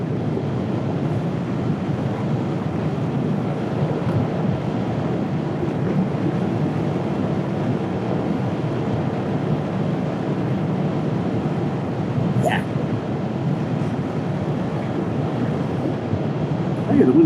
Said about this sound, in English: the wind's cooperating